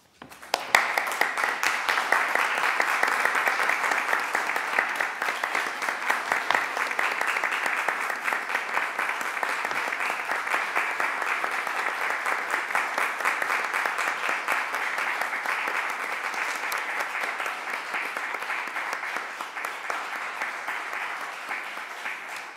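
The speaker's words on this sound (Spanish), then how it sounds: "Yo sé que el aplauso no es para mí, por eso muchas gracias." Sustained audience applause at a poetry book presentation in Madrid, a loud, even wash of many hands clapping that carries on for over twenty seconds with little change, alone without voices.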